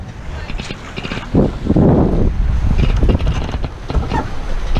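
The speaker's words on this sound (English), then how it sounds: "now we're running. Now we got the wind." Wind rushing past a Corsair F-27 trimaran while sailing in a race, a loud, steady buffeting roar against the microphone, with brief voices and boat noises mixed in.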